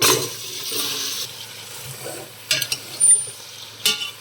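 Mutton bones and cumin seeds fry in a pan for a soup, a close sizzle that fades after the first second, then a few sharp scraping and clinking stirs near the end; no talking.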